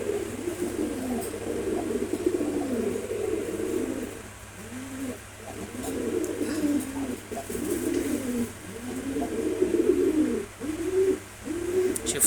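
A pair of Giribaz pigeons coo nearby in repeated rolling phrases with short pauses between them, soft chirps and faint background noise, no voices.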